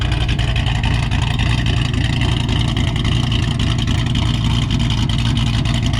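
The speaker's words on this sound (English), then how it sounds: "At the back, you hear nice cam sounds." Cammed Ford Mustang GT500 exhaust fitted with Corsa Sports and Flowmaster Outlaws mufflers, heard from the rear as a loud, steady, choppy idle rumble with a lumpy cam rhythm throughout.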